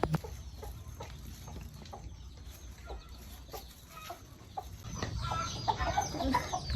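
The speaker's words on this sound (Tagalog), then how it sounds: "Manok ni Mother Dear" Chickens cluck softly in the background amid quiet outdoor ambience, growing busier and louder toward the end.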